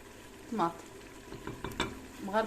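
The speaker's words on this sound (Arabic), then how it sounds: "نخليوه يتقلى بالكدا مع المكونات الكل ويزيد يتقلى" Meat and chicken frying together in a pan for a Tunisian kebab dish, with tomato added; a soft, close sizzle runs under a few stirring scrapes and clinks, without talk.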